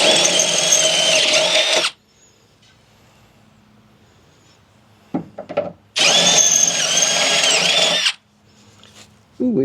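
Power drill boring out a hole in the steel frame of a Jeep Gladiator during rock slider step installation, two loud sustained bursts of about two seconds each separated by quiet pauses with small handling knocks.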